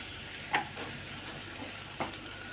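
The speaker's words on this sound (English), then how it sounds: "you have to mix the tomatoes until it becomes soft" Tomatoes in a hot pan sizzle softly as they are stirred, with a faint steady hiss and two brief scraping taps from the spoon.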